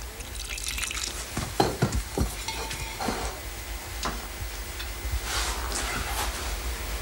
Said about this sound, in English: Mixed with enough soured milk to make a very soft dough.